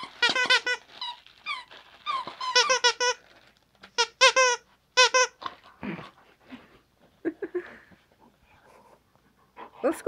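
A dog squeaks a squeaky BarkBox toy in quick repeated bursts of high, bright squeals, with short pauses and soft panting and snuffling between the bursts. The sound is close and fairly loud.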